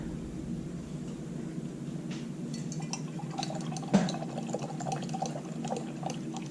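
Paintbrush rinsed in a water cup after painting, soft swishing and sloshing with a single clink of the brush against the container partway through, close and quiet.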